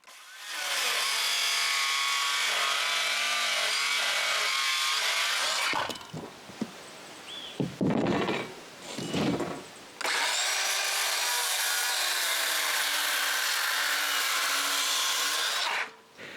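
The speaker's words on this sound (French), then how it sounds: "on découpe notre première ferme juste pour voir si tout va fonctionner" A power saw cuts through plywood to form a roof truss for a shelter, two long steady loud cutting passes with a quieter stretch of handling and knocks between them.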